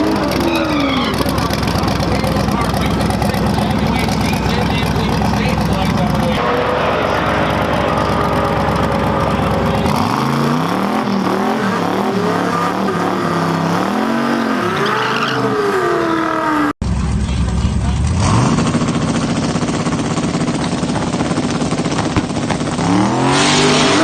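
A drag race car making a pass at the TX2K19 event, a loud engine roaring and revving hard with rising and falling pitch sweeps as it accelerates away, then a sudden cut to another loud, steady engine roar.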